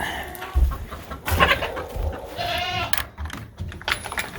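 Chickens on a homestead cluck and squawk nearby in irregular bursts, with some shuffling and rustling noise mixed in.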